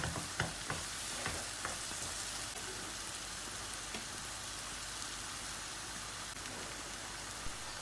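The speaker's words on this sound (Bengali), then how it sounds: "আমি 1 চামচ হলদিও দিয়ে দিচ্ছি, তো আমার অনিয়নটা জলদি ফ্রাই হয়ে যাবে।" Onions fry in hot oil with a spoonful of turmeric for a Bengali kofta curry, giving a steady close sizzle with occasional sharper crackles and pops, and no voices over it.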